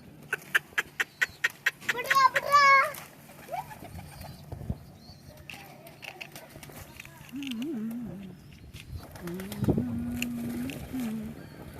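Pigeons in a backyard coop coo softly while rhythmic clip-clop taps and chirps sound nearby, and people talk throughout.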